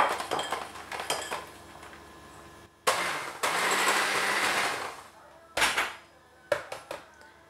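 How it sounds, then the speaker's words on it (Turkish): An electric hand mixer whirs steadily in a couple of bursts while mixing a chocolate cake, with clinks of dishes and utensils between them. "Şimdi mikserle çalıştıracağım."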